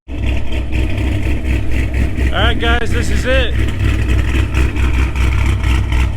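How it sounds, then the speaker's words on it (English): A car with an LS2 engine rumbles and revs steadily throughout while doing donuts in a back lot, with someone talking briefly over the loud, continuous motor noise. "let's go ahead and cut to us doing some donuts out in the back lot"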